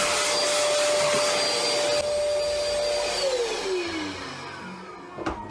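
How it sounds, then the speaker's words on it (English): A vacuum cleaner runs steadily at close range with a high whine that drops in pitch partway through as the motor winds down, ending with a brief knock. "Grab the vacuum cleaner and vacuum my mess up real quick."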